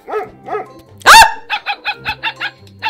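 Small chihuahua barking in a video game: repeated yappy barks, two short ones, then a loud squeal, followed by a rapid run of six or seven sharp yaps, close and clear.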